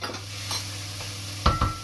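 Red onion and chopped garlic frying in a pan, a soft steady sizzle broken by a couple of brief utensil scrapes and clinks against the pan.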